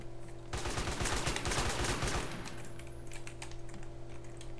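A rapid burst of automatic gunfire in MTA DayZ, about two seconds of fast shots, followed by quieter game ambience with faint scattered sounds.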